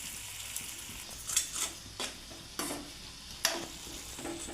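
Oil sizzles quietly in a pan while a utensil stirs and scrapes at irregular intervals, making soft frying and clinking sounds while a Maggi omelette is prepared.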